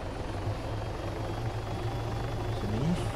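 A helicopter in the video game Arma 3 (Altis Life mode) holds a steady, loud rotor thump and engine drone for the whole stretch, with no talk over it.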